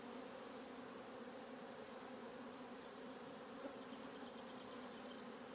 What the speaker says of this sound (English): the majority of the foraging bees stay with this colony